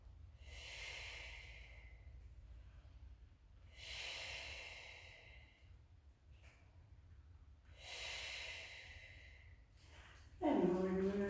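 Three slow, close breathing cycles come during a Pilates hip series on a cross roller, each a long airy breath spaced about four seconds apart. A brief voiced sound comes at the end.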